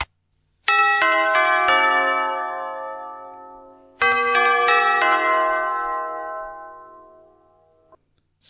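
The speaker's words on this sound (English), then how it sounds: "Once the time is up, it shows you okay, rings the bell, and resets to 0." A countdown timer's alert bell chimes when time runs out: two identical multi-note ding-dong sequences of bright, ringing tones, each decaying slowly, clear and alone with silence between and after.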